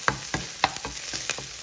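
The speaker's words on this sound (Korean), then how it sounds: "볶을 때 닭이 갈색이 나지 않도록 조심해서 버터가 골고루 될 정도로만 볶아주시면은" Pieces of boiled chicken are stir-fried in melted butter in a pan, with a soft sizzle beneath a series of sharp scraping and clacking stirs that come in an irregular rhythm, close up and without talk.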